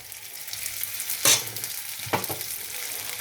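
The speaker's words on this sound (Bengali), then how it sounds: "এবার আমি চালগুলো দিয়ে দেবো এবার আমার চালগুলো ভাজ দিয়ে দেব" Rice being stir-fried in a pan for a Bengali basanti pulao, heard as a low continuous sizzle with two sharp scraping stirs from a spatula, the first stronger than the second.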